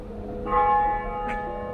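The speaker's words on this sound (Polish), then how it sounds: "Dzwony gdzieś słychać." Distant church bells ringing over a steady outdoor hum in a winter town street with a tram, with one brighter bell stroke standing out near the end.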